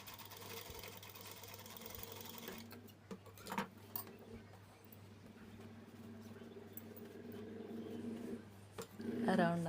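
Sewing machine stitching thread work on a kid's work blouse with a normal presser foot, faint rapid ticking bursts that start and stop, with a quiet voice talking over it.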